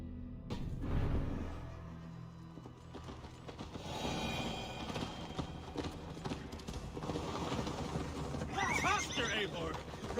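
A horse gallops through snowy northern England in Assassin's Creed Valhalla, with steady hoofbeats throughout, rattling tack, a sharp neigh near the start and a whinny later, and a voice speaking over part of it.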